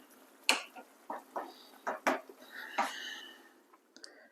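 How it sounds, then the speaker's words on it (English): Dishes and cutlery clink sparsely in a home kitchen as Jamaican ramen noodle soup is plated, a series of close, faint taps and scrapes spread irregularly over a few seconds. "I'm going to turn off my stove and plate it."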